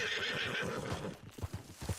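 A horse in the video game Red Dead Redemption 2 gives a loud, drawn-out neigh and then snorts, followed by hoof clip-clops thudding close by.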